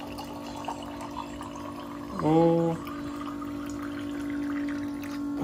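A small electric water pump dispensing water gives a steady whine, with a short rising gurgle of flowing water midway and a brief spoken exclamation.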